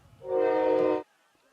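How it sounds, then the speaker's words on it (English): A train horn sounds in the video game Slow Damage as a train passes through, one loud sustained tonal blast of about a second that cuts off abruptly, with no voices. "There's just a train passing through."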